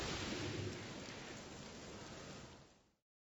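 A storm attack in the Miscrits video game sounds as a dense wash of rain layered with a low thunder rumble that swells at once, then fades out after about three seconds.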